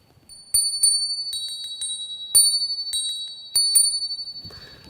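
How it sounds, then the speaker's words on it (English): Small handheld bells struck several times, each giving a bright sustained ring that fades slowly, with strikes in loose clusters and a soft rustle at the end. "I have these bells. I enjoy these bells. These are just little bells."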